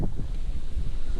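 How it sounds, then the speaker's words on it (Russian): Strong storm wind buffets the microphone on a lake, low rumbling gusts on an open fishing boat, loud and close with no voices. "Натуральный шторм."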